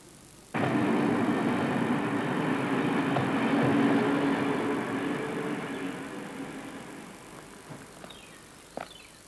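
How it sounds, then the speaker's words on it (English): A train rumbles in abruptly and rolls steadily past, loud and broadband, slowly fading, with a few squeals and clanks near the end. "Train must have gotten in early."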